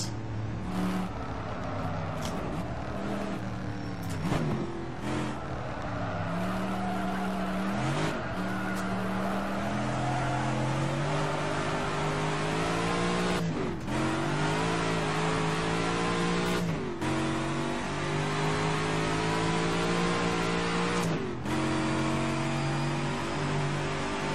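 An AC 427 Shelby Cobra in rFactor 2 roars loud and steady, its engine note climbing and dropping through gear changes as it brakes hard into corners, with brief tire squeal throughout and no voices.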